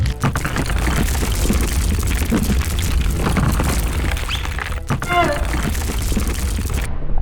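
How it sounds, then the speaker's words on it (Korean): An animated volcano eruption: deep rumbling booms and crashing blasts roll on continuously, loud and dense, with a sharp cracking burst partway through. "화산이 폭발했고 뜨거운 용암이 도로 위로 흘러내렸습니다."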